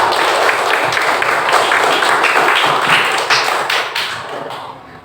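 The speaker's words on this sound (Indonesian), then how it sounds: "Mari kita beri semangat, tepuk tangan karena kedisiplinan kamu semua." Sixth-grade schoolchildren in an elementary classroom give a loud, dense round of clapping that carries steadily, then tapers off toward the end.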